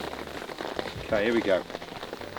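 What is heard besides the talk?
rain falling on a golf course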